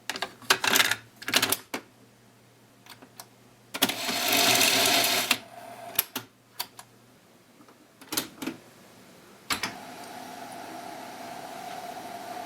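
Keys clack on an Amstrad CPC464 home computer keyboard as a short BASIC program is typed, in irregular close bursts of quick taps with brief pauses, one longer rattling run and a faint hum.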